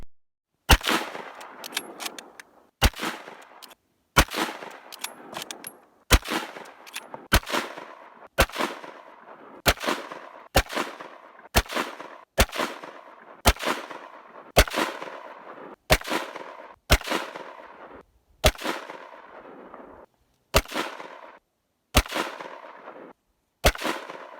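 An Enfield No. 5 Mk 1 Jungle Carbine fires about twenty sharp, loud rifle shots at steady intervals of roughly one to two seconds, each followed by a decaying echo across an open range.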